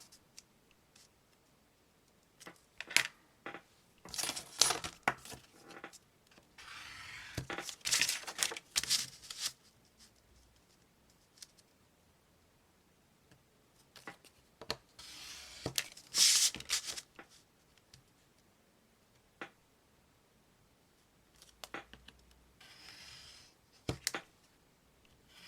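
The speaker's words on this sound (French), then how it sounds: "Alors, je vais faire mes plis d'abord." Paper being folded for a handmade teacher's gift gives intermittent crisp rustles, creases and taps in short bursts separated by quiet pauses, close to the microphone.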